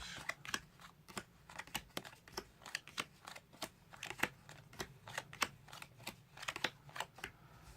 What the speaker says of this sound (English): now I'll just deal the cards down into 4 piles